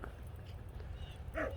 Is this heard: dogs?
yes